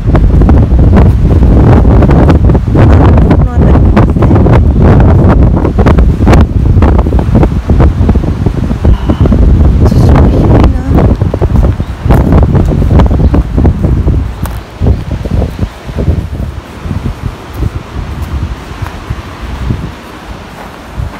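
Strong gusts batter the microphone on a deserted spot on Tsushima island, a loud, constant roar of wind buffeting with rough bursts that ease off somewhat toward the end.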